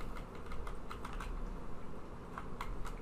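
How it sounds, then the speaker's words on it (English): Quiet typing on a computer keyboard while a command is entered to run a Java jar file, irregular soft key clicks spread across about three seconds with no voices. "To run it, I type in java minus jar, then the name of the jar file that I want to run."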